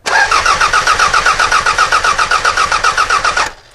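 A car engine with a blown head gasket cranks on the starter in a loud, close, rhythmic chug of about twenty strokes, the uneven compression beats dipping before it cuts off.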